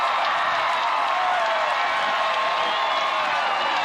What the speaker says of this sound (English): Now this crowd's starting to get into it.